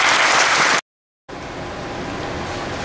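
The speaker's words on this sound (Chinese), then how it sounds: "来大家掌声鼓励一下。" Audience applause at an industry investment forum in Kaohsiung, welcoming the meeting's chair to the podium; a dense, steady clapping wash that cuts out briefly and then resumes just as full.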